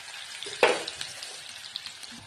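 Chopped French beans dropped into hot oil in a home kitchen pan, a sudden loud sizzle burst at the start that settles into a steady crackling fry with scattered pops.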